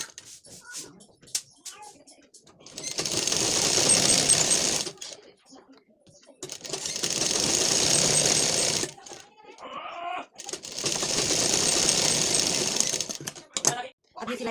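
Three long runs of a sewing machine stitching a thin seam along a turned blouse lining, each burst steady and close, separated by short quiet gaps with small handling clicks.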